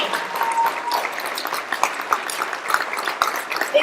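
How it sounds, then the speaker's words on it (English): An audience at a monthly meeting applauds a team, a scattered patter of clapping with a few sharp claps standing out, medium loud throughout. "Big round of applause for the whole Beyond Arlington team."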